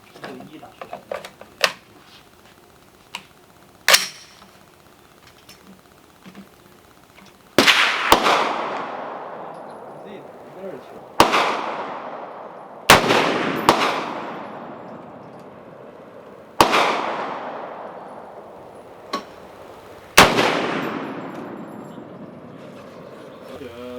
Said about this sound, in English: The first, we will be shooting the Hornady for our first group of 5.